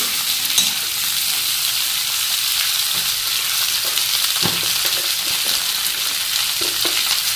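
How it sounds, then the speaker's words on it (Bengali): Cauliflower and potato fry in a pan, producing a loud, dense, unbroken hiss of sizzling oil with occasional soft knocks and scrapes of stirring underneath. "তারপরে ফুলকপি আলুটা আলাদা একটু ভেজে নেবে"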